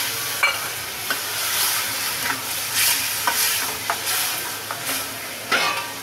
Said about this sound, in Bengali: মশলাটা যাতে না পুড়ে যায় একটু জল দিলাম।